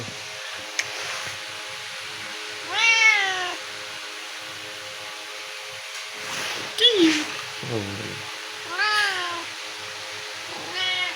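A cat meows several times in a drawn-out, wavering way, with the calls spaced apart and close by, while a person speaks briefly in between.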